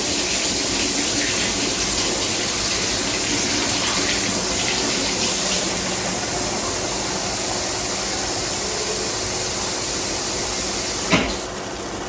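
Warm tap water runs into a container while making dinner from scratch, a steady, even gush that continues throughout, with a single small knock near the end.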